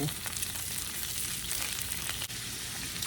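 Food sizzles steadily in a hot skillet while homemade spaghetti is being cooked, a continuous close crackle and hiss with no one speaking over it.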